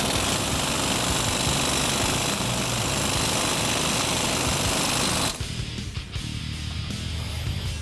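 A power tool hammers continuously while compressing a strut spring on a 2009-2016 Ford F-150 during a 2-inch Skyjacker leveling kit install, loud and rapid for several seconds before cutting off abruptly, leaving quieter workshop ambience.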